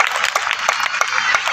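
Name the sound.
audience applause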